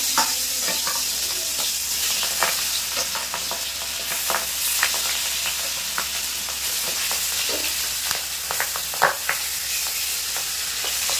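Pieces of boal fish fry in hot oil in a pan, a steady close sizzle with scattered pops and occasional stirring scrapes, no voices.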